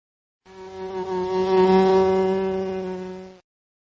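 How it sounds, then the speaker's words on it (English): A steady insect-like buzz, as of a bee, rises from silence, holds a rich droning tone with slight swells for about three seconds, then stops abruptly; close and alone. "I am bee."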